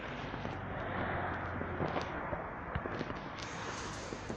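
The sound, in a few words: distant fireworks on Bonfire Night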